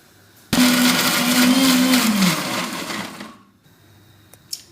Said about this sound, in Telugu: ముంతమాడిపప్పు, తెల్లగడ్డ, అల్లం అండి, వీటిని ఫైన్ పేస్ట్గా చేసుకున్నాము.